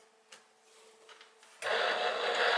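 Faint mechanical hum from a Gemini embossing machine, then a louder, steady whirring rush as it begins feeding a plexiglass sandwich through its rollers, close by and brief.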